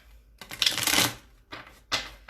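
A deck of tarot cards being shuffled up close, a long riffling burst followed by two shorter crisp bursts, quiet between them, with no talk.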